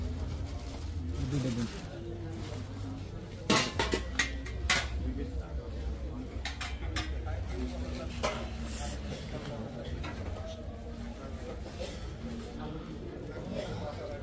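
Steel plates handled at the Dhaka International Trade Fair, giving a few sharp metallic clinks and clatters, loudest in a cluster around the middle, beneath ongoing conversation and busy crowd noise.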